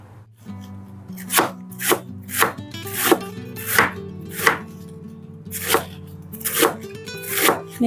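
Cabbage being cut with a knife: about a dozen sharp, close chops landing in a fairly even rhythm, each a crisp crunch through the leaves onto the board, heard alone without talk.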